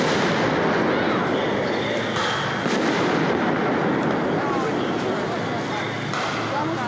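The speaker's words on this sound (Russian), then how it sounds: "Уже не знаю, которая граната разрывается, шашка со слезоточивым газом, наверное, 20-я." Tear gas grenades burst at a street protest, giving dull booms and sharp cracks amid a dense, continuous roar of crowd noise, with distant shouting throughout.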